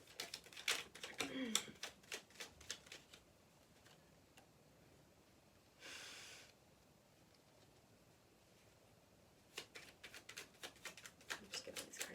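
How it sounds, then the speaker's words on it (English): Tarot cards being shuffled and handled by hand, with quick crisp riffles and flicks in bursts at the start and end, a brief soft swish in the middle, and quiet pauses between. "I'm just getting these cards out."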